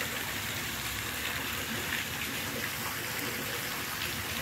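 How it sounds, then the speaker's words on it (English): Steady water falling and flowing at an outdoor site, a continuous even rushing wash heard close by without talk. "Water from here falling, probably going into where?"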